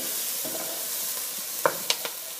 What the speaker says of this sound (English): Let's stir this.